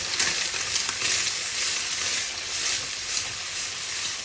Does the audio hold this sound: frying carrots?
yes